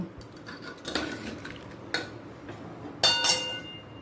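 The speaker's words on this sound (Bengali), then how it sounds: "এবার কুকারটা নামিয়ে নিয়ে কড়া বসিয়ে দিলাম" A kadai being set down on a gas stove after a pressure cooker is lifted off, giving several close metallic clanks and scrapes, with the sharpest ringing clatter near the end.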